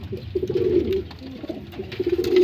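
Pigeons coo softly and continuously close by while being fed, low burbling calls overlapping with faint rustling and pecking.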